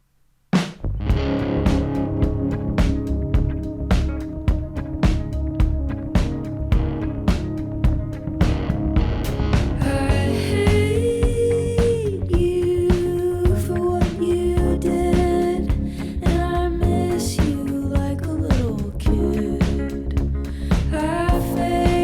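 A warm, distorted electric guitar chord opens an indie song, ringing out loud and sustained and then carrying on into full, steady band music with no voices.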